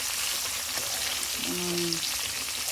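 Snake gourd fries in oil with no water added, giving a steady close hiss of sizzling that runs through the whole stretch, with a faint brief tonal sound partway through and no talking.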